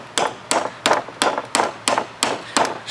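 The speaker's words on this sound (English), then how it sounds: "So we'll just start tapping." Steel hammer strikes on a screwdriver used as a chisel to split a bushing sleeve on a C10 rear drop flip kit, about nine sharp, evenly spaced taps in a steady rhythm, loud and close, with no talking.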